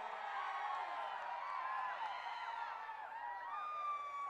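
Rally crowd in Rajam, Andhra Pradesh, cheering and whooping loudly with rising shouts, dense continuous noise throughout with some clapping mixed in.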